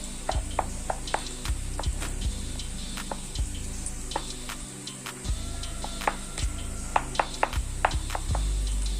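A spoon mashes roasted eggplant for baingan bharta, producing soft repeated taps and squelchy knocks against the pan in an irregular steady rhythm, close and moderately loud.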